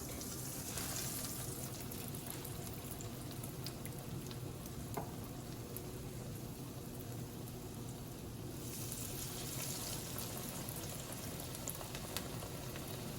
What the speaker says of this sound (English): We are going to shallow fry the cutlets.